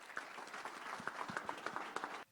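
A small gathering at an Acts of Excellence awards event in Watertown gives a round of applause. The individual hand claps are distinct and sparse, fairly quiet, and end abruptly.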